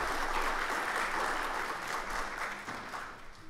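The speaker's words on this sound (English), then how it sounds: "please give him a big round of applause" An audience claps steadily for a guest lecturer at a talk on the future of Islam. The applause is loud and continuous, a dense patter of many hands that fades slightly toward the end.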